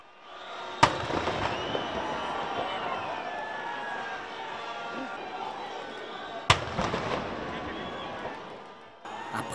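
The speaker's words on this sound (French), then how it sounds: "21 coups de canon." Ceremonial 21-gun cannon salute in Mauritius, with two heavy, sharp booms about six seconds apart, each followed by a rumbling decay over a continuous murmur of crowd and voices.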